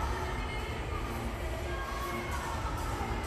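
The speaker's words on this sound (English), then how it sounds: "Gitty Gitty gets another reception from the crowd." A stadium crowd at Paris 2024 Paralympic athletics finals gives a steady, broad roar of cheering and applause that holds at an even level throughout, with no pauses.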